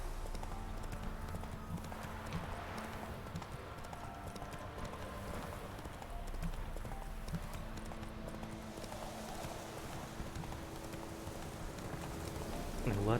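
Roach the horse gallops across wet ground in Witcher 3, its hooves beating steadily for the whole clip. Soft rain, game music and occasional voices sit underneath the hoofbeats.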